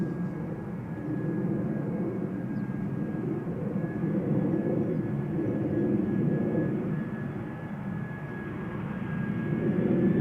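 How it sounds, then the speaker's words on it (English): A Boeing 777-300 airliner arriving from Cape Town at Schiphol's Polderbaan runway gives a steady, moderately distant engine roar with a thin high whine, swelling gently over several seconds. "777-300 arriving from Compton"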